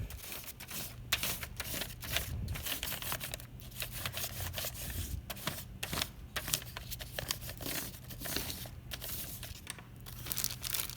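Peeled crayon rubbed sideways across paper laid over cardboard, giving dense scratchy crinkling strokes in quick irregular bursts, close and continuous with no talk.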